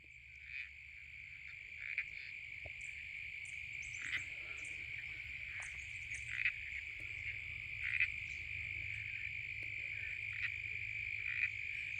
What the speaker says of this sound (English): that small kind of clicking sound you can hear is the Bibron's toadlet